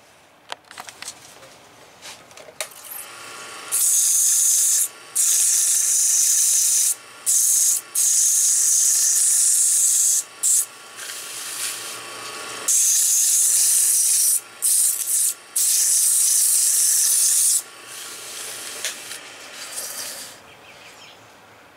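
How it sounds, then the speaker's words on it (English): Close, loud bursts of sanding on a burnt guava wood firesteel handle, a harsh rasping hiss in long strokes separated by short pauses, with quieter scraping between them. "Let's do some more sanding."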